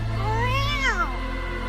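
A cat meows in the video game Wuthering Waves: one drawn-out meow that rises and then falls, heard close and clear over a steady low hum.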